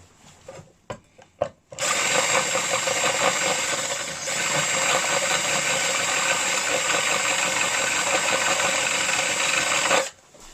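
A power drill bores a hole through a tin for making a char tin. A few knocks come first, then a loud, steady whine runs close for about eight seconds with a slight change partway through, then cuts off.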